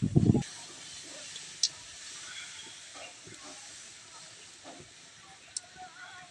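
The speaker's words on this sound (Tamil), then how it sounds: "எண்ணெய் நல்லா காஞ்சிருச்சு" Oil heating in a pan for frying puri gives off a faint, steady hiss, with a brief knock at the very start and a few soft clicks later.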